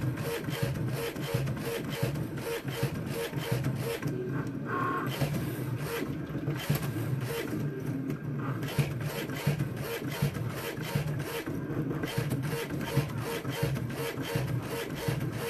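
Electric cutting machine cutting felt pieces, a continuous close mechanical whirring and grinding with repeated rapid clicks and rubbing strokes throughout.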